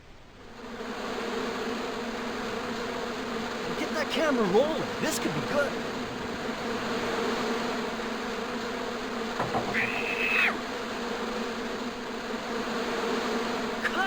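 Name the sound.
hornets buzzing from a bush in the video game Broken Sword II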